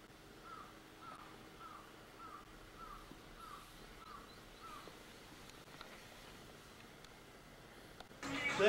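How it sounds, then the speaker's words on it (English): Outdoors, a bird that sounds like a crow gives a steady series of about eight faint, evenly spaced calls, heard at a distance over quiet background noise. "Look, it's bird."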